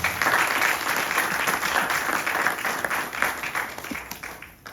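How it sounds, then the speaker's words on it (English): An audience at an evening inauguration ceremony for a Dharmacharya in New York City applauds in a dense, steady roar of clapping that holds strongly for several seconds before thinning out at the very end. "Please give them a nice round of applause."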